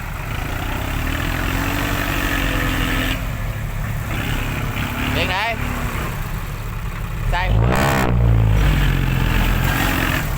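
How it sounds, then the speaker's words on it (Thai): An engine drones steadily and loudly, then revs harder near the end as the wheels spin in clay, with a voice speaking briefly over it. "ล้อตะกุยแต่ว่าเครื่องยนต์ยังไม่ดับเจอดินเหนียว"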